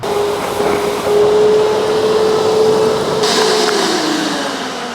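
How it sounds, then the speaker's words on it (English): Hyundai HYVI10030 wet vacuum running loud and close as its tank float cuts off suction once full, the motor's steady whine dropping in pitch as the airflow roar changes. "that is that little float on the tank cutting the vacuum off"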